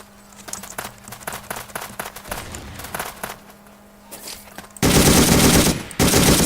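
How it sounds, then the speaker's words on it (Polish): Submachine gun fire in an Ace of Spades game mod, in rapid bursts, with quieter clatter and shots before a loud, dense stretch of continuous automatic firing near the end. "Słychać też, że chyba inaczej słychać strzały, pociski, kule"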